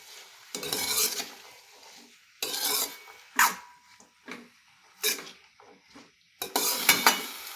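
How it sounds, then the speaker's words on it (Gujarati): Vegetables for green pav bhaji are stirred in oil in a pan with a metal spoon, giving several separate bursts of scraping and clinking. The strokes come in an irregular rhythm with short quiet gaps between them, close and fairly loud. "શાકને આપણે તેલ સાથે થોડા સાંકળી દઈશું"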